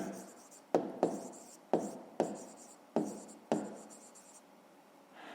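Pen writing on paper while a fifth-grade maths answer about distance is noted down, with six or seven crisp strokes landing at steady intervals and soft scratching between them, close and alone.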